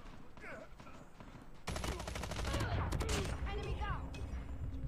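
A burst of rapid automatic gunfire from a weapon in Call of Duty Mobile, loud and dense for several seconds, following a quieter stretch with faint game sounds.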